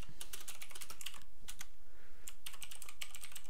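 Typing on a computer keyboard, quick uneven clusters of crisp key clicks close by with short pauses between bursts, over a quiet room.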